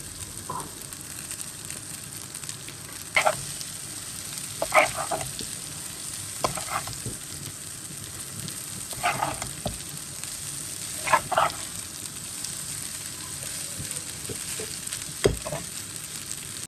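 Spaghetti with a pinch of chili powder fries in a pan while being stirred: a steady close sizzle broken by intermittent scraping, clattering strokes of the spoon, with no voices.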